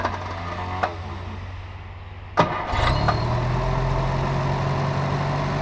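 A car engine cranks and catches after a couple of clicks, then settles into a steady, loud idle that continues alone.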